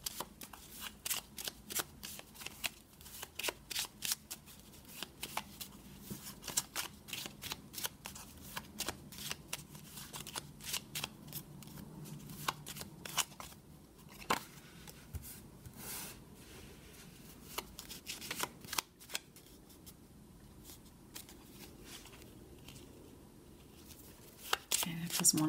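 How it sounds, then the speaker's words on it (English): Tarot cards are shuffled by hand, stiff cards that tend to stick together, making a continuous soft riffling and flicking patter that runs throughout at low level, with occasional faint speech in the background. "we can go ahead and start shuffling these cards for you"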